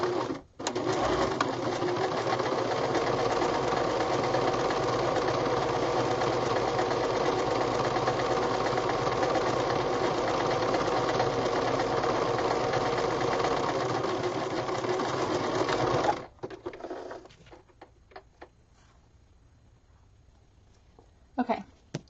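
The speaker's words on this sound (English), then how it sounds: "Then you're going to sew a seam right down the center of that line." A sewing machine runs at a steady, fast hum as it stitches a seam down a folded fabric hem, continuous for about sixteen seconds, then stops, leaving faint handling clicks and quiet.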